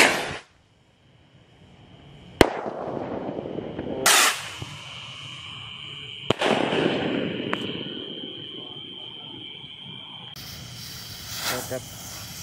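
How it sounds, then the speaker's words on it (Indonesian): Festive Lebaran firework rockets launch with sharp cracks and bangs, four or five distinct bursts spaced a couple of seconds apart, each trailing hiss and crackle against a quiet night background. "Yang pertama kita akan menyalakan roket."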